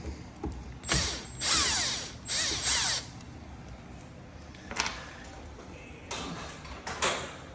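A screw being backed out of the arm of a Horton 7000 handicap automatic door opener, with close, loud bursts of ratcheting metal clicks in a few separate runs between short pauses, no voice heard.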